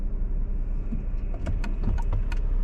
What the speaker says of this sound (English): We'll let one more car go by.